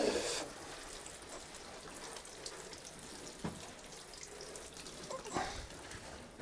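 Water trickles and splashes onto garden seedlings, a faint, steady hiss broken by a few louder splashes, with no talking.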